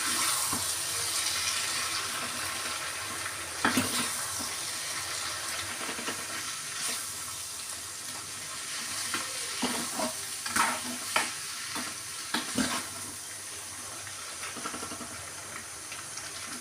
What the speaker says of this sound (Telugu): ఇప్పుడు మ్యాగీని యాడ్ చేసుకొని మనం మంచిగా కిందకి పైకి తిప్పేసేద్దామని